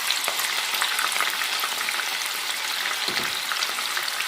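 Chickpeas for chana manchurian fry in hot oil with a steady, dense sizzle and crackle, with occasional louder pops and a brief stir; no voices.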